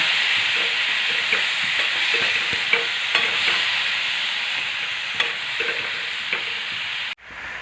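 Pumpkin pieces sauté in hot oil with salt and green chillies, giving a steady close sizzle and hiss with occasional scraping stirs throughout, cutting off abruptly at the end.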